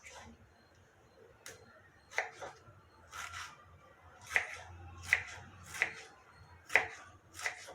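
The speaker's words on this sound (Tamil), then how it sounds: "ஒரு 3 தக்காளி இந்த மாதிரி நீல வாக்கில் நான் கட் பண்ணிக்கிறேன்" Three tomatoes being sliced lengthwise with a knife on a board, a series of sharp, close taps spaced about a second apart in an otherwise quiet room.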